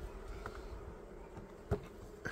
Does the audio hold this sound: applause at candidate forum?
no